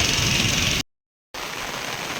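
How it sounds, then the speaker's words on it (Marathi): Heavy rain pours down on a farm in the Konkan region as a steady, loud, dense hiss, cut off abruptly by a brief silent gap before it resumes. "पाऊस आता जरा जास्त म्हणजे पावसाचं प्रमाण जास्तच वाढलं"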